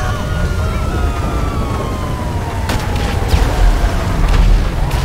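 A police car siren in GTA V wails and sweeps down in pitch over a heavy, rumbling engine drone, with a few sharp thuds near the end.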